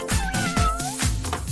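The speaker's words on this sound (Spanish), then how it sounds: "Oh, es una gatita." A pregnant stray female cat meowing: several short, close, insistent meows in quick succession over about a second and a half.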